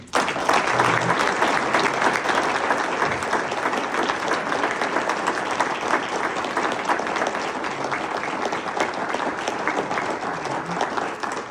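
Large audience at a celebration event giving young alumni a sustained round of applause, a dense, even roar of many hands clapping that stays loud from start to finish.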